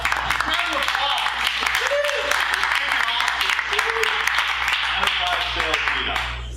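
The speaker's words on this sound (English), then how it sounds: "Round of applause." Applause from a meetup audience at an enterprise sales event, a steady wash of many hands clapping at moderate loudness for about six seconds, with a low hum beneath and voices mixed in.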